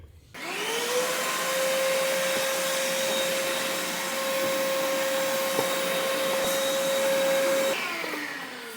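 A vacuum cleaner cleans dust from a BMW G80 M3 car interior, running steadily with a high whine for several seconds, a continuous loud drone without any talking, then cuts off at the end.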